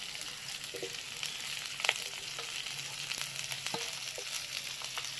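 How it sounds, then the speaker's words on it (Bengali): Cauliflower fries in hot oil with already-fried potato and beans, giving a faint, steady sizzle with occasional soft crackles and stirring clicks throughout. "আলু আর বিনসটা পুরো ভাজা হয়ে গেছে এবার আমি ফুলকপিটা দিয়ে দিই"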